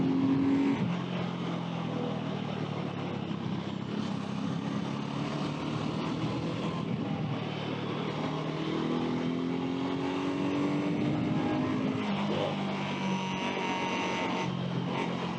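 BSA Gold Star single-cylinder motorcycle engine running steadily and loud throughout, a continuous throbbing exhaust note with rising and falling revs and no talk.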